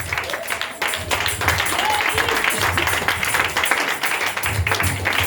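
Congregation applauding during a Sunday praise and worship service, a steady wash of clapping from many hands, fairly loud and sustained, with a voice speaking over it at times.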